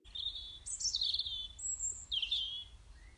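Clean birdsong sample with a handful of thin, high whistled chirps in separate phrases over quiet low rumble, soft and somewhat distant, with no talking.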